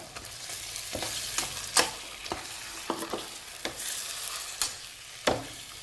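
Tomatoes and drumsticks frying in a pan for a tamarind stew, a steady soft sizzle broken by repeated sharp clicks and scrapes of stirring, close and without speech.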